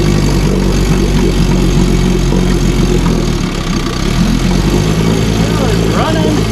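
A 1957 Sea King 5HP outboard motor, first time running in 20 years, chugs steadily and loudly close by, a continuous low throb with no pauses.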